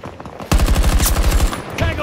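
Rapid automatic gunfire in the shooter game Battlefield 2042 bursts in loud and close after a quiet start, a fast regular stream of shots, with a voice faintly underneath.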